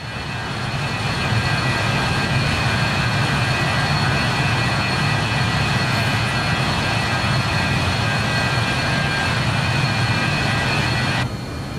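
Simulated BAe 146-200 jet engines in Microsoft Flight Simulator 2020 hold a steady, loud, broadband roar throughout, a continuous whine layered over low rumble as the aircraft accelerates after takeoff.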